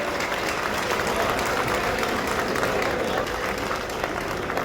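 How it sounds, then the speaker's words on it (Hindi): A crowd at a railway project inauguration ceremony applauds to welcome a guest, a Lok Sabha MP, with thick, continuous clapping at an even level from start to finish. "तालियों से इनका स्वागत कीजिए।"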